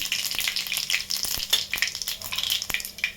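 Mustard seeds and cumin sizzle in hot oil, a steady close crackle with many tiny sharp pops as the seeds spit and burst, heard alone.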